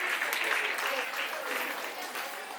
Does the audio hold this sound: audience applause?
yes